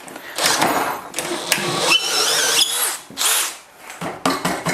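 A cordless impact drill, DeWalt DCD805 or Makita DHP487, bores into wood in loud, close bursts, the motor whining up and dropping off between runs.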